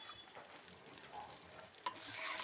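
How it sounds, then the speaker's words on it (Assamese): Elephant apple (outenga) and potato pieces being stirred and fried in a pan for an Assamese fish curry, giving a faint, steady sizzle with soft scraping and one sharp clink near the end, no talk. "লৰাই এইখিনি ঔটেঙা আৰু আলুখিনি দি প্ৰায় 2 মিনিটমান সময় এনেকৈ ভাজি ল'ব লাগিব।"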